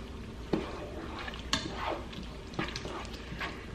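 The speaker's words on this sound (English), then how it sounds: "So here we are mixing in the ginger." Ginger is stirred into a garlic sauce in a pan, a soft continuous sizzle broken by several gentle scraping strokes of the spoon, close and fairly quiet.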